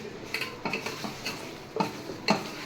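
Chicken masala for biryani being stirred in a pot, a series of spaced spoon scrapes and metallic clinks against the pot over a soft sizzle.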